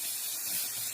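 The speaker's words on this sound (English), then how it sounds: "So I've been shaking the black, hoping it sprays properly because this is from last season." An aerosol can sprays black paint in one continuous, close airy hiss lasting about a second.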